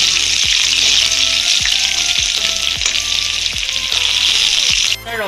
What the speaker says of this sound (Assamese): থেতেলা নহৰু দি নহৰুখিনি ৰঙা হ'বলৈ দিছো